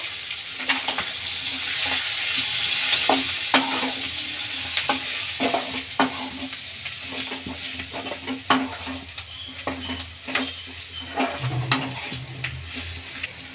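Turmeric and salt are stirred into a sizzling capsicum and besan dry curry, with a steady frying hiss under repeated sharp spoon scrapes and taps against the pan. No voices.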